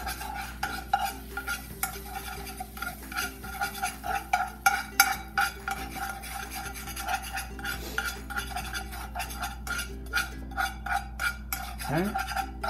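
A utensil stirs melted brown sugar and butter in a pan, scraping in a steady repeated rhythm with a faint sizzle underneath, close and clear with no talk.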